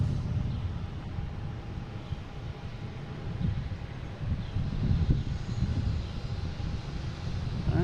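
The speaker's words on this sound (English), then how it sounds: "We have Delta coming in here from Philly, a Philly special, E175, flight 5706." Delta Embraer E175 airliner inbound from Philadelphia arriving at Boston Logan, a steady low roar of jet engines with wind noise, fairly distant and continuous.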